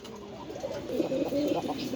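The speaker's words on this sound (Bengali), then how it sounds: "এটা টোটালি 3 পটি লাল গিয়ারের অরিজিনাল পাকিস্তানি র ব্রিডের কবুতর" Pakistani-breed pigeons with three red bars cooing, soft low rolling coos repeating close by over a faint background murmur.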